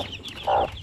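A single short cluck from a Shamo Aseel chicken, close and clear, standing out briefly from a quiet farmyard background.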